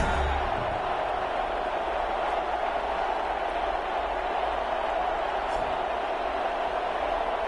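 A football stadium crowd at a GFL game between the Oklahoma City Nighthawks and the London BlackKnights makes a steady, broad roar that fills the whole stretch without breaking.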